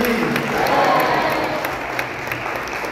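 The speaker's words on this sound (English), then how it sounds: "with your applause, the entertainers will come forward" Applause and some cheering from an audience at a Rama Navami drama presentation, a continuous full wash of clapping that holds steady throughout.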